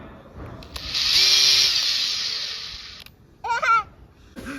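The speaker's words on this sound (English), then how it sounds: "Oh, you're even doing the drill." A handheld power drill whirs up in a single sustained burst of a couple of seconds in a garage workshop, close and fairly loud, followed by brief speech from a man nearby.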